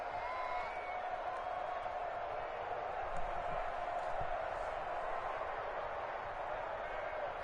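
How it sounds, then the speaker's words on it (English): Football video game stadium crowd, a steady distant roar of cheering that builds slightly ahead of a big third down, continuous throughout with faint whoops on top. "The crowd getting into it as we come up on a big 3rd down."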